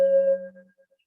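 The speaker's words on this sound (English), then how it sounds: "So when I play Tibetan bowl" A Tibetan singing bowl is struck once and rings with a pure sustained tone over a lower hum, fading out within about a second.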